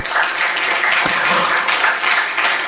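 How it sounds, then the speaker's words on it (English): Applause from the audience at an ideation bootcamp session, a dense steady patter of many hands clapping that fills the room throughout the short stretch. "Give a big round of applause again for sir."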